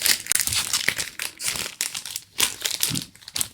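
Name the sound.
clear plastic envelope package being opened, crinkling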